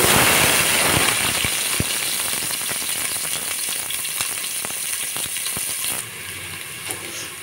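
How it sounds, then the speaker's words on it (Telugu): Chopped onions fry in hot oil for a vegetable biryani, a steady crackling sizzle with scattered sharp pops and utensil taps, close up, easing slightly near the end. "ముందుగా ఆయిల్ వేసుకొని అందులో కట్ చేసిన ఉల్లిపాయలు"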